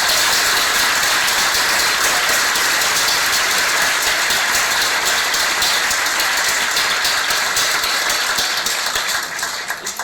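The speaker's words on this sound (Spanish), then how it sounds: "Pues les damos un aplauso" An audience at a Spanish-language talk breaks into applause, a dense and sustained clapping that carries on loudly for the full ten seconds before starting to thin out at the end.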